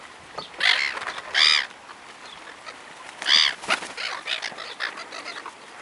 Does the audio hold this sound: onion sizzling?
no